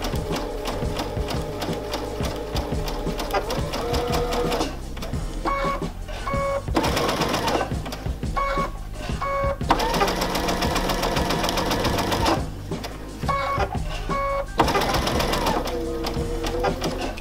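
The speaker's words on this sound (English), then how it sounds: "we're going to stitch about an eighth of an inch or about 3 millimeters inside" A sewing machine stitches patchwork fabric with a loud, close, rapid mechanical whir, running in bursts that stop and restart several times over the stretch as the seam is sewn.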